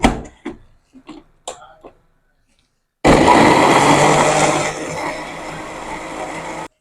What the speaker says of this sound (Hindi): इसको हम अच्छे से ग्राइंड करेंगे 2 से 3 मिनट तक